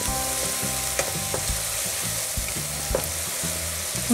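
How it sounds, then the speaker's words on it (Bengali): Onion and spice masala frying in a pan for a Bengali duck curry with coconut, a steady close sizzle broken by repeated scraping stir strokes and small clacks of the spoon against the pan, with no talk. "এবার আমরা এই মশলাটাকে একটু ভালোভাবে ভেজে নিব।"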